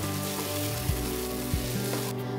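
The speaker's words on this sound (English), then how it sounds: "You need to continue to stir fry this for about 10 to 15 minutes until the oil and" Rempah paste with dried shrimp stir-fried in a wok for Nonya laksa, a steady close sizzle and crackle of hot oil running throughout, with a couple of soft scraping stirs.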